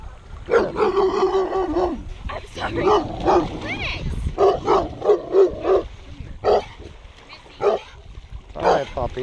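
A puppy yips and barks in short, uneven bursts with whimpers mixed in, close by and moderately loud, as people talk over it outdoors.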